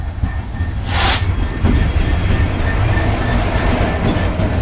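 A GB Railfreight Class 66 freight train passes close by, a loud continuous rumble of wagons with clattering wheels and a brief high hiss near the start.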